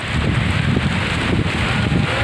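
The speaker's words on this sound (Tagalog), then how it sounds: "ganyan po kalakas ang hagipit ng bagyo na signal number" Strong typhoon winds from a signal number 3 storm batter San Fernando, Laur, Nueva Ecija, roaring steadily and loudly against the microphone with constant buffeting gusts and no pauses.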